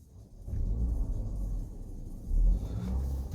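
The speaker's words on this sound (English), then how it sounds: "Okay, vehicle running." A Range Rover Autobiography engine idles steadily just after starting, a low continuous rumble with a brief swell in level partway through, heard alone without voices.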